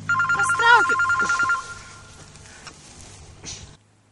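A telephone rings with a rapid electronic trilling tone for about a second and a half, close and fairly loud, followed by quieter room noise and a brief clunk as it stops.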